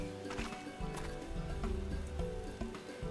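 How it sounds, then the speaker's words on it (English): Horse hooves in Final Fantasy XIV clip-clop in a steady, fairly faint trot, mixed with a soft musical background. "few things are more magnificent than a horse in motion"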